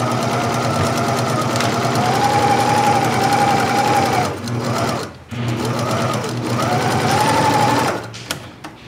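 A sewing machine stitches a handwoven tote, its rapid motor hum and needle chatter loud and close, running in two long bursts with a brief pause between.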